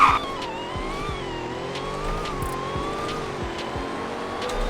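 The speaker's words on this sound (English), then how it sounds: "let's do a second gear pull" A 1,000 hp limited car in Roblox Greenville launches in second gear, its engine tone held steady and loud while it pulls hard, with no voice over it.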